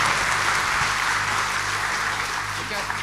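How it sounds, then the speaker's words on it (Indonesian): Dense, steady applause from an event audience greeting the boss of Holy Wings Group, a continuous wash of many hands clapping throughout with a low hum beneath. "kasih tepuk tangan yang paling meriah ke bosnya Holy Wings Group"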